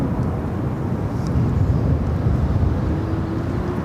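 Airliner taking off from Phoenix Sky Harbor runway 7 left, heard as a steady, distant broadband jet roar that swells slightly midway, with no voices over it.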